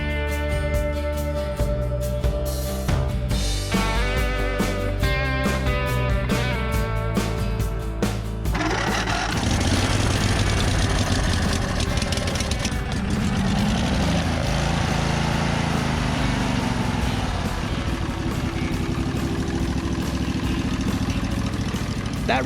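An old junked lawn mower engine runs on an auxiliary fuel tank, chugging steadily and fairly close. After a stretch of mechanical rattling it settles into a continuous running drone for the rest of the time.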